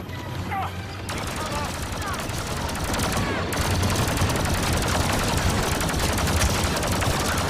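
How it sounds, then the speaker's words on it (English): Rapid blaster gunfire from a Star Wars Battlefront II firefight against stormtroopers, dense and continuous bursts of shots crackling over a busy battle din throughout. "I certainly don't mind shooting stormtroopers"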